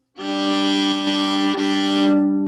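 A viola sustains a perfect fourth, two notes together in a calm, steady consonant interval for a couple of seconds, alone and fairly loud.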